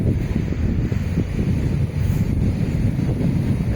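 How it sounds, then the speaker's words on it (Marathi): Sea waves wash onto a Konkan shore of black rock at sunset, a loud steady roar of surf mixed with heavy wind buffeting the microphone, with no voices. "समुद्राच्या लाटा बघा कशा आपल्याला आहेत."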